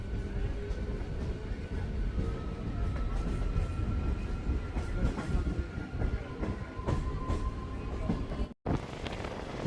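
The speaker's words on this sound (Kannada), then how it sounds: "ಹೊರಟಿದೆ ನಮ್ಮ ಟ್ರೈನು ದಾವಣಗೆರೆಯಿಂದ" A MEMU passenger train pulls out of Davangere station, its steady rumble and rail clatter rolling on continuously from up close, with a short dropout near the end.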